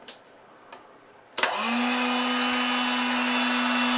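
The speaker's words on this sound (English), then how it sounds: "let's go ahead and just turn this heater on full blast" An electric heater running full blast from a 12V 100Ah LiFePO4 battery starts up after a few faint clicks, then gives a loud, steady fan roar with a constant tonal hum that continues unchanged.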